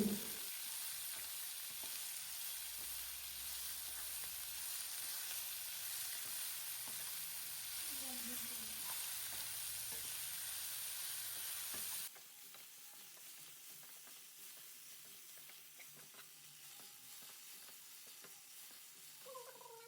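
Sliced onions sautéing over a medium flame, a continuous frying sizzle with soft stirring scrapes throughout, the hiss dropping noticeably quieter partway through while gentle stirring continues.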